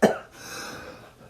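A single sharp, close cough bursts out at the start, followed by a faint breathy trailing sound.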